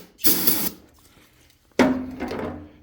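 Aerosol brake cleaner hisses in two bursts from a spray can into a garden tractor engine, a short blast followed by a longer spray after a pause, close and loud with no talking.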